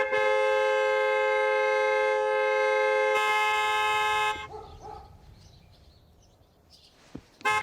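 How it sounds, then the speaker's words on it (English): Car horn honking repeatedly outside in a film scene, a loud sustained blare lasting several seconds and then cutting off, followed by quieter ambient noise and a brief short toot near the end. "she is outside honking the horn repeatedly"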